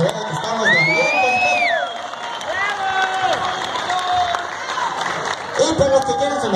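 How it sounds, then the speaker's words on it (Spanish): At an annual village fair in San Pedro Cafetitlán, a crowd applauds and cheers with scattered whoops and whistles, a lively wash of clapping under a loud announcer's voice and some music. "Que se oigan ese fuerte aplauso, que se vean que estamos de ambiente."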